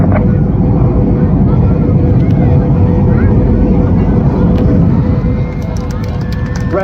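Red Arrows jets perform the Hannah break at a Blackpool air display, a loud continuous roar of jet engines with rushing wind noise that holds steady throughout and eases slightly near the end.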